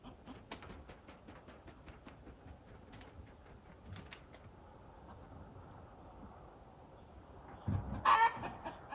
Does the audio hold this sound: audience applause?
no